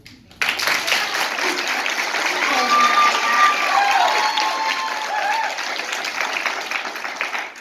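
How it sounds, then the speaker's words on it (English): An audience at a county Board of Supervisors hearing on tiny sheds bursts into sustained applause that starts abruptly, swells, and then slowly tapers, with a few voices mixed into the clapping. "I'm going to ask you to hold your applause, please"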